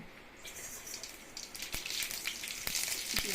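Mustard seeds popping and sizzling in a little hot oil in a pan, a steady frying hiss broken by several sharp crackling pops that grow busier toward the end.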